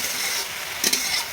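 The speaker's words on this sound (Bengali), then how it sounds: "ঢেঁকি শাক এইভাবে ভাজতে হয়।" Dheki greens fry in mustard oil in a wok, making a steady soft hiss with a couple of brief stirring scrapes partway through.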